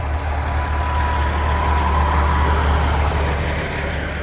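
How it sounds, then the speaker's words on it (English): Heavy trucks pull in late at night, a loud, steady low engine rumble that stays close and continuous with a broad noisy wash over it and no voices. "Trucks are coming in."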